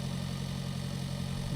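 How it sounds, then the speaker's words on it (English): Tractor engine in the Pure Farming 2018 farming game, a steady low drone with a fixed pitch, loud and close and alone, holding even throughout. "we're not going to get a whole lot of speed out of this particular tractor"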